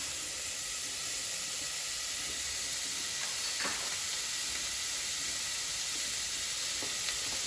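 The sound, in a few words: diced bacon sizzling as it fries in a pan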